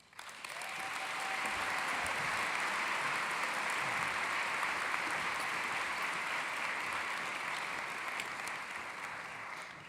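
University nursing commencement audience gives a broad, sustained round of applause, a steady wash of many hands clapping at moderate distance for about ten seconds, with no talking over it.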